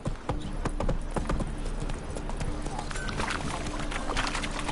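Hooves of Geralt's horse Roach clip-clopping in The Witcher 3, a quick, steady trot of crisp hoofbeats up close, with game ambience around it.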